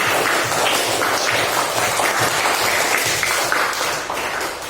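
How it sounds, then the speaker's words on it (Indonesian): Fourth-grade classroom in Indonesia applauding after finishing a science experiment: a dense, steady patter of many hands clapping at once, fairly close, sustained evenly for several seconds before easing slightly at the end. "Oke, beri tepuk tangan untuk kita semuanya yang sudah berhasil mengerjakan percobaan hari ini."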